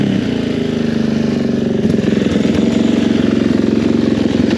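A Suzuki DRZ 400 dirt bike engine runs close by with a steady, throbbing idle and a slight rise in pace partway through, with no voices over it.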